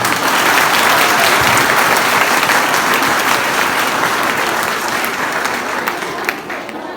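Loud, dense applause from a large college audience at a lively lecture event, sustained throughout and gradually easing toward the end.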